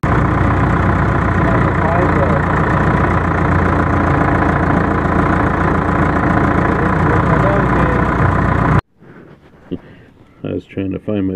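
A Caterpillar D4 bulldozer engine runs loud and steady with heavy low rumble and clatter for about nine seconds, then cuts off abruptly, leaving quieter intermittent sounds and voices.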